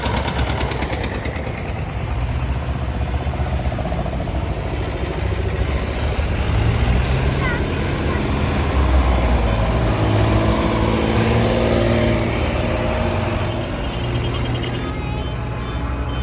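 An old tractor engine rumbles steadily on a farm in Italy, its low idling drone swelling slightly louder midway as it draws nearer, with people talking faintly nearby.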